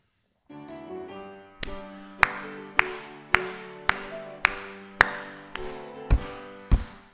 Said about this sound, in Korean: 우리 박수하면서 찬송합시다.